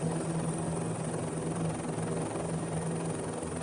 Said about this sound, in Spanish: El helicóptero se suspende en el aire.